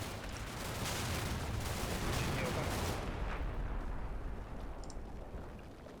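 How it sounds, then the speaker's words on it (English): Mortar shells landing in the wargame Combat Mission, a broad rumbling roar of distant impacts that swells and slowly fades, with no voices present. "It's another mortar hit. I think it's mortars that are hitting that."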